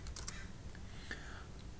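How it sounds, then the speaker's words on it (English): Computer keyboard keys tapped a few times, a quick cluster of clicks followed by a single key press, faint and close against a steady low hum. "I'm going to toggle through by typing U spacebar so that we've got it on the up"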